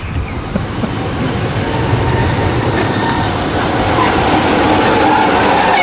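A train rumbles steadily nearby as it arrives at Barton-on-Humber station, a continuous low mechanical roar with faint clattering that grows slightly louder over several seconds.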